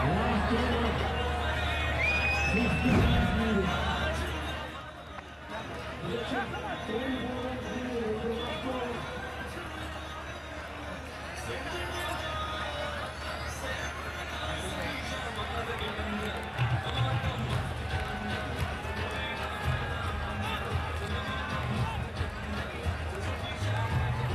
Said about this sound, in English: the crowd are enjoying it. They have made noise all day